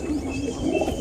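A pet pigeon gives a short, soft throaty coo, a single low rolling call heard close by with no voices.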